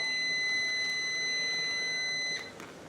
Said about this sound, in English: There's your timer, folks.